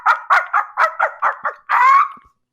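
A human voice imitates a kookaburra's laughing call, a run of seven quick rhythmic hoots ending in one longer wavering whoop, loud and close with nothing else around it.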